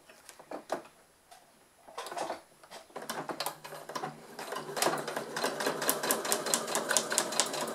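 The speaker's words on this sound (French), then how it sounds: "J'ai cousu ma première diagonale," A sewing machine stitches straight quilting lines through padded fabric, its rapid ticking hum building from a few clicks into a steady, close run.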